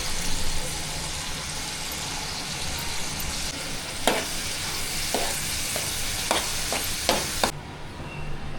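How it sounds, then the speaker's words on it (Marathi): Onion and garlic frying in oil in a village kitchen, a continuous loud sizzle with several sharp scrapes and taps of a spoon stirring the pan toward the end. "आता कांदा टाकला, तेल टाकून मग लसूण टाकला"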